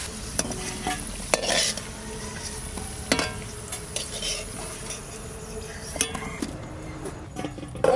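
Potatoes fry in a pan until reddened, a constant sizzle broken by repeated stirring strokes and clinks of a utensil against the metal, close up with no voices.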